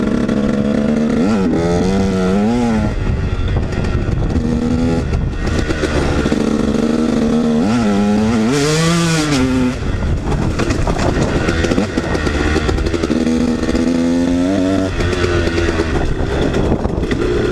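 KTM 150 dirt bike engine on a muddy track, revving loudly and continuously with rising and falling pitch sweeps as the rider shifts and accelerates, close and uninterrupted for the whole stretch.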